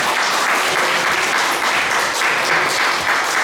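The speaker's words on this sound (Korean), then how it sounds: "뜨거운 박수로 청해 듣도록 하겠습니다." A packed audience gives a speaker warm, thick applause, many hands clapping loudly and continuously without a break for several seconds.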